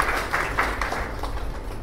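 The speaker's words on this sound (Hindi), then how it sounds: "ताली बजाइए" Seminar audience in a hall claps in a brief burst of rhythmic applause, fairly loud at first and then thinning out.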